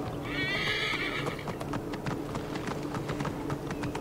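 A horse in Assassin's Creed Origins lets out a loud whinny at the start, followed by a steady run of clip-clop hoofbeats on hard ground, close and rhythmic throughout.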